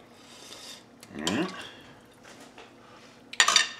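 Beef barley soup ladled into a bowl, a soft pour and slosh followed by a bright clink of the ladle against the dish, quiet and close in a kitchen.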